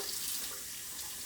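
Tap water runs steadily into a sink while glass pint canning jars are washed, a continuous close hiss and splash with no talking.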